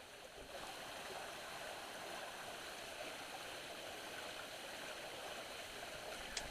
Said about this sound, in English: Recent rain had raised the creek, turning it into a swamp.